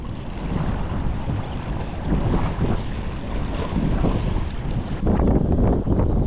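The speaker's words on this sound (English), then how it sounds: "Windy out here today." Wind blows hard at a seaside jetty, a loud rushing roar buffeting the microphone, with surf and water sounds beneath, steady and gusting stronger toward the end.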